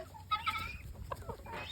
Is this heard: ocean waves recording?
no